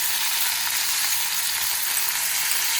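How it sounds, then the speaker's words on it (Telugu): Ingredients frying in hot oil in a pan while making raw mango coconut chutney, a steady, bright crackling sizzle close by, continuous and even with no talk. "వేడైంది నూనె, ఇలా వేసేస్తాను. ఇప్పుడు మంచిగా వేయించండి."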